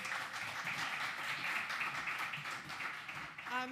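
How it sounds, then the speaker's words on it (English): Applause from the audience at a panel session on climate-resilient solutions for the Sahel at Expo 2020 Dubai, a steady dense clapping that holds for several seconds before a voice briefly cuts in at the end. "a round of applause for her once again"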